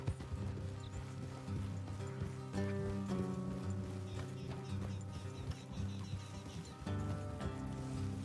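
Horse hooves clip-clop at a walking pace over a musical background in the video game Red Dead Redemption 2, with occasional soft snorts, fairly quiet and steady throughout.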